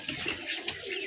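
Giribaz pigeons kept at a Rajshahi loft coo softly in a few short, rounded phrases, faint and close with quiet background.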